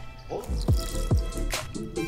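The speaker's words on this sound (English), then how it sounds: "Pour it in your chilled martini glass." A dirty martini is poured into a chilled martini glass, giving a short close-up splash with two quick dripping gurgles and then a brief trickle, with no other sound around it.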